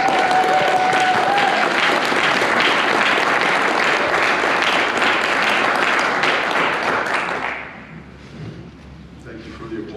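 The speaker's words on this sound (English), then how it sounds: "Thank you for the applause." An audience at the NH Liberty Forum claps loudly and steadily, a dense wash of applause that fades out near the end.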